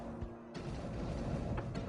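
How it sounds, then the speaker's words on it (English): Frigate weapons firing in Homeworld Cataclysm during a space battle, a dense run of booming, overlapping shots and impacts that rolls on without pause. "Multi-beam Fire, frigate fire"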